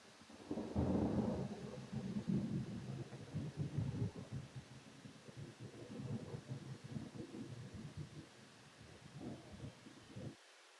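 Thunder from a storm recording, a loud crack-like burst followed by long rolling low rumbles that fade and surge over about ten seconds, distant and booming with no talking.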